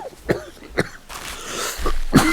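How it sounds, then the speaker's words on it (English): A few short, harsh coughs and a throat clearing come from someone close by in a quiet meeting room at a select board session, spread out across the moment. "Cough is So horrendous."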